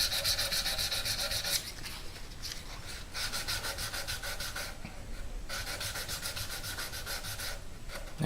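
A guitar fret is sanded with 320 grit sandpaper in fast, even back-and-forth strokes, a close, continuous raspy rubbing broken by a few brief pauses.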